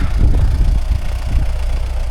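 An MTZ tractor clears knee-deep snow in a hard frost of around minus twenty, its engine giving a steady, loud, low diesel rumble throughout, with no voices.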